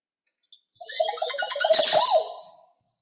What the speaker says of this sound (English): That is Montezuma's oripendula. It has one of the most unique and distinctive calls you'll hear from any bird in the world.